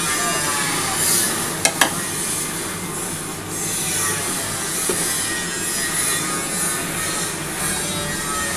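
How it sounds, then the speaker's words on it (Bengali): Bhola fish curry with potato, onion, tomato and coriander simmers in a pan, giving a steady dense bubbling sizzle throughout, with a couple of faint clicks early on. "একটু ফুটে যাক বন্ধুরা"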